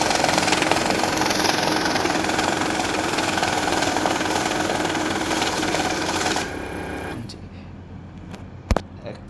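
A Safescan S260 money counting machine runs through a stack of mixed banknotes with a dense, fast, whirring flutter that stops abruptly, followed by quieter mechanical clicks as it finishes.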